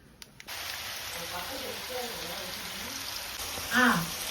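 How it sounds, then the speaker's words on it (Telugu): Pieces of ridge gourd and green chillies frying in hot oil, a steady close sizzle that runs throughout, with a brief louder burst near the end. "అవి బీరకాయలు పచ్చిమిరకాయలు వేగుతున్నాయి"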